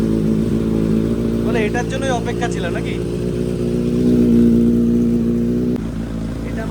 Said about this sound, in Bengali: এই ডিউক 390 কোল্ড স্টার্ট হবে